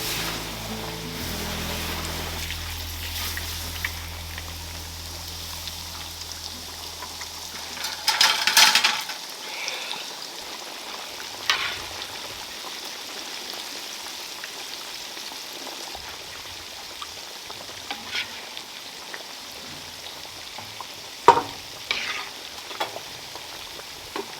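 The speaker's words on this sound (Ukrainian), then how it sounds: "Смажимо на середньому вогні 8 хвилин" Steady sizzling of fish frying in a pan over medium heat, with a low rumble early on and occasional clinks and louder spatters.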